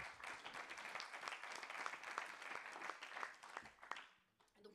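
An audience at a conference marking the third anniversary of an intrapreneurship institute claps for a featured intrapreneur. The applause is dense and continuous, moderately distant, and tapers off and fades out near the end.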